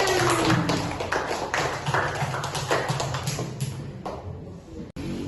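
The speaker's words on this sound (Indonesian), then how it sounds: "Ya, berikan aplaus untuk temannya." A classroom of students clapping for a classmate, a steady wash of many hands applauding close by that thins out toward the end.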